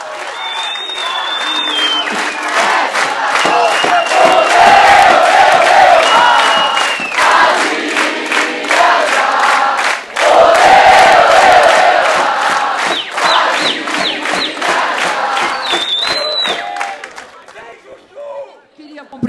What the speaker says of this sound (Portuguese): Padilha ficou por último para vocês aplaudirem ele mais.